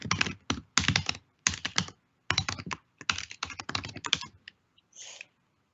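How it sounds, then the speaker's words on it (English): Typing on a computer keyboard while entering text into a notebook cell, quick clusters of close, crisp keystrokes separated by short pauses, alone with no talk. "I can type here"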